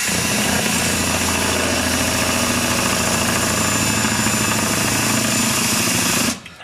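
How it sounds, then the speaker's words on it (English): A power drill bores into an arcade machine lock, giving a loud, continuous grinding whir with a buzzy mechanical vibration that holds steady for about six seconds before suddenly stopping. "Now when I'm drilling, I'm applying a little bit of pressure."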